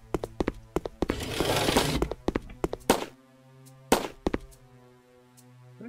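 A handgun fires repeatedly in a Unity-built Wolfenstein 3D-style first-person shooter, giving a run of sharp, close shots in quick bursts over a steady low game tone, then a couple of isolated louder reports.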